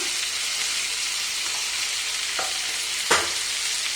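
Turmeric, chili and coriander powder going into hot oil for a Rajasthani kachri curry, a loud steady sizzle with two sharp spoon taps against the pan near the end.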